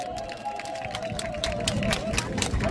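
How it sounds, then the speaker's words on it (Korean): An outdoor crowd applauds at a youth policy rally in Cheonggye Plaza, Seoul: a brief, dense patter of clapping with a faint sustained tone beneath it. "박수로 맞아주십시오."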